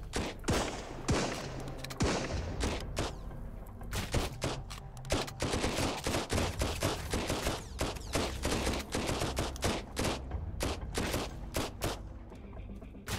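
Rapid bursts of enemy gunfire in Sunkenland, sharp repeated shots cracking in quick irregular volleys and near continuous strings, loud and close throughout with almost no pauses.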